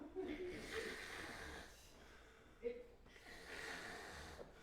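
Slow, heavy snoring breaths close by, each drawn-out inhale rasping, with a sharper snort partway through; a voice may be imitating the sound.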